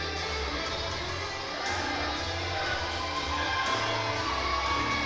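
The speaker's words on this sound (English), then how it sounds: "this crowd is getting loud" A crowd cheers and shouts at the finish of a CrossFit competition, the Battle of Mossy Creek 2021, a dense steady roar that swells slightly after the first couple of seconds, with voices woven through it.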